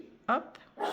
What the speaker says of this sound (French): Excusez-moi, c'est mon chien.